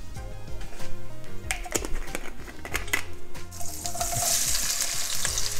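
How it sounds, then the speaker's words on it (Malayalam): Cumin seeds hit hot oil for a roasted cockle fry, starting as scattered crackles and swelling into a steady, loud hiss of sizzling that fills the second half, with no voices. "ഇനി നമ്മുടെ ചൂടായ എണ്ണയിലേക്ക് കുറച്ച് ജീരകം ഇട്ട് കൊടുക്കുക"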